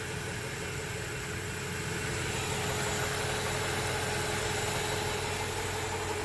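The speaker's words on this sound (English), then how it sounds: "Idle really nice." A Honda Prelude engine idling smoothly at low RPM after warming up, a steady low rumble with a constant hum and faint mechanical whir, close and unbroken, with no talking.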